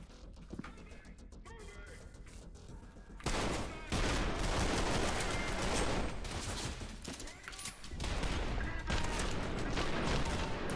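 Rapid pistol gunfire in a video game, dense bursts of shots starting after a quieter opening with faint clicks, continuing in loud volleys with a brief lull near the end.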